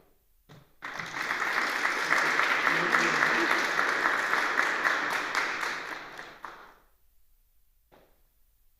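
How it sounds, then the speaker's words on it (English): A forum audience applauds its panelists in a sustained, even round of clapping that swells, holds for about six seconds, then fades into quiet. "Let's give them all a round of applause."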